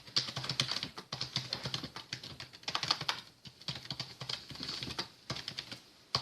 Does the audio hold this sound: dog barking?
no